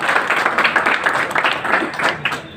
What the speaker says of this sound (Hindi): जमुना जी की जोरदार तालियां